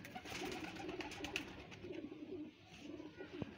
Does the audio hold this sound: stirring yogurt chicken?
no